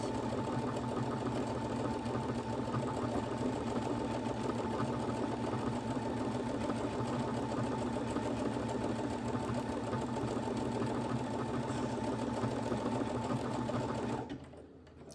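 A Brother Innovis F410 sewing machine stitches programmed letters, humming and clattering in a steady, fast rhythm close by for about fourteen seconds before stopping abruptly, with no talking.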